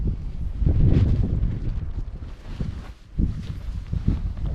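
Gusty wind buffets the microphone at a sandy hillside camp on a walk from Glen Trool to Loch Dee while a tent is pitched, a steady low roar that swells and dips, with no talk.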